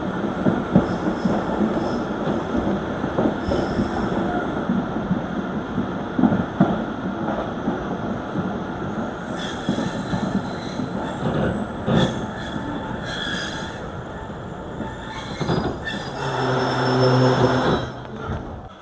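A passenger train departs a station in the Thar Desert, rolling along the track with rumbling wheels and high metallic squeals, steady and fairly close, building slightly as it moves off.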